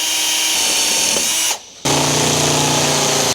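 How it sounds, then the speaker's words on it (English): A power drill with a 5 mm bit bores a pilot hole while a custom idle speed control valve is fitted to a Toyota Altezza; a loud, steady whine runs, stops briefly, then restarts close up. "Use a 5 mil. Drill a pilot hole."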